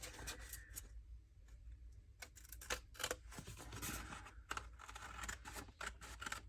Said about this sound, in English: So I'm just going to cut these out.